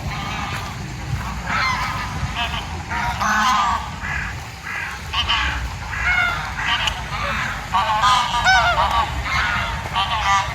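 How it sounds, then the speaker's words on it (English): Flock of geese, including a white goose, honking and calling repeatedly among ducks and swans at Cleethorpes, a loud, busy overlapping chorus of honks over low rumbling background, with a faint voice now and then. "Oh, there's a white goose as well."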